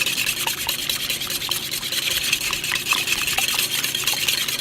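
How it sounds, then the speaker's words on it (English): Two eggs whisked in a bowl with a steady, fast scraping and rubbing rhythm of utensil against the bowl, close and continuous, with no talk. "you're going to start with 2 eggs, and you're going to mix these together"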